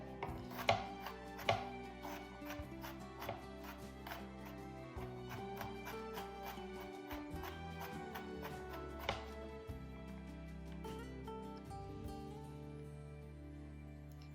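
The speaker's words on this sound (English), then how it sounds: "It's a rocking motion that the chef is using with a chef knife right now" A chef knife rocks through a large pile of vegetables for marinara on a cutting board, a fast, steady run of crisp taps and clicks with occasional louder strikes and no one talking.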